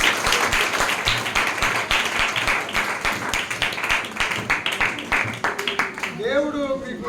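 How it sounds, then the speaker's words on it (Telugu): A church congregation claps loudly in rhythmic, sharp bursts for several seconds, and a voice then rises as the clapping fades out. "గట్టిగా చప్పట్లు కొట్టి"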